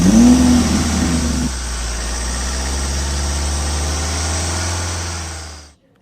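A police car's engine idles steadily and close by, with a low constant rumble, then fades away as the vehicle pulls off. No one speaks.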